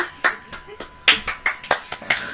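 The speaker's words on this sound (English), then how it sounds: "he just starts clapping awkwardly, smiling" One person claps slowly and unevenly, about ten separate hand claps at irregular spacing, close and fairly clear, with nothing else heard.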